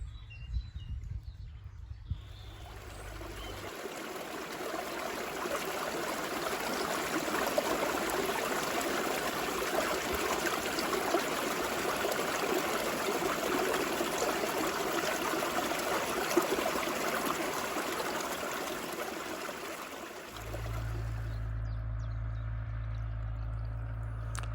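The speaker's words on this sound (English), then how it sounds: "A nice look underneath the bridge and the road on this, the Osmington Brook." Osmington Brook flows under a bridge and road in Dorset, making a steady, close babble and trickle of water that holds throughout. Faint bird calls sit in the background.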